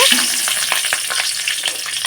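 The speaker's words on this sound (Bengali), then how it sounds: "এদিকে কিন্তু আমি এখন লঙ্কাগুলো দিয়ে দেব।" Green chillies fry in a pan with a loud, close, crackling sizzle and quick stirring scrapes throughout.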